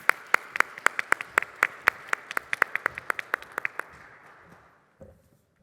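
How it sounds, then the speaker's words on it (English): Audience members at an investment forum clap in a sparse, crisp, fairly close rhythm as a speaker comes up, tapering off after about four seconds, followed by a faint bump. "Let's give her a round of applause as she comes."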